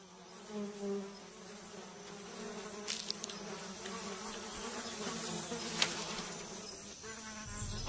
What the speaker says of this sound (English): Biting insects are a constant torment.